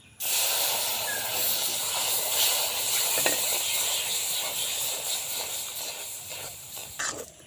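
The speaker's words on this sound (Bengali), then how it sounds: "এতে দিয়ে দেবো জল" Water hits fried semolina in a hot wok, giving a loud, steady hiss and sizzle that holds for several seconds before easing off slightly near the end.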